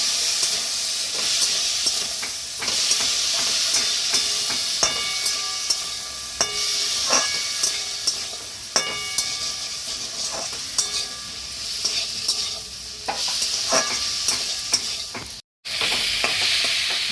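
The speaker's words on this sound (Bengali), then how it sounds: "এতে সামান্য একটু জল দিয়ে মশলাগুলো ভালো করে কষে নেব" Spices with cumin powder and a little water sizzle hard in a pan while a spoon stirs and scrapes in repeated strokes, a loud continuous hiss close by, with no voices.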